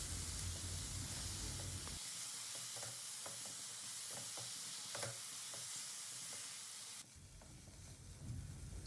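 Mixed vegetables with turmeric and salt sauteing in a karahi, a soft continuous sizzle and hiss with scattered stirring scrapes and clinks, moderately close and fairly quiet.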